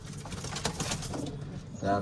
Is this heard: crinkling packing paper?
no